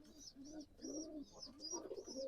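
Pigeons in a loft cooing softly and repeatedly while a female feeds her chick, a gentle rolling rhythm of low coos, fairly close and faint, with no talk.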